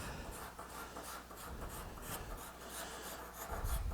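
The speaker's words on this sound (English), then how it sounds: "And then I would card scrape." A card scraper works over the surface of a wooden designer iPad stand, making steady, closely spaced rasping strokes up close with no talking.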